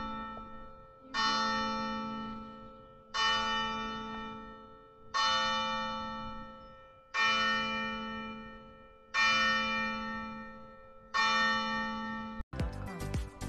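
A church bell in Honfleur, Normandy, tolls the hour with six slow, evenly spaced loud strikes about two seconds apart, each ringing and decaying before the next, followed by a brief clatter at the end.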